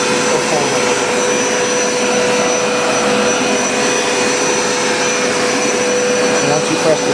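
A Hoover SmartWash automatic carpet cleaner suctions up water, giving a loud, continuous, steady whine and roar with a faint voice beneath.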